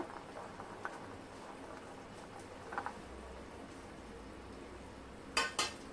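A spoon stirring fruit such as grapes, raisins and pomegranate into custard in a bowl, with soft quiet scraping and patter, then two sharp clinks of metal against the dish near the end.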